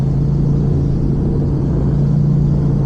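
A Yamaha R7 motorcycle engine held at steady high revs during race start practice, a loud, constant droning rumble heard close with no breaks.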